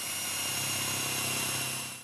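A drill mounted in a portable drill press guide runs with a steady, loud, high-pitched whine that holds constant for about two seconds before fading slightly.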